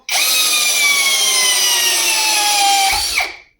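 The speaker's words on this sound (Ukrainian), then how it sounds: "25-й гвинт. Він його має або вкрутити, або зламати." A GRAND power drill drives a screw into dense hornbeam wood with a loud, continuous whining motor, its pitch sinking slowly as the screw bites, then a sharp strained crunch and a quick spin-down.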